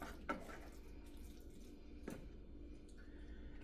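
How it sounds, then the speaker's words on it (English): Water from a tap is poured into a pan of simmering sloppy joe meat mixture, giving a brief splash and trickle against a low background hum, faint and close. "let me get a little bit of water in here"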